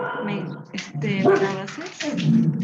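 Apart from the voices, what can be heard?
dogs barking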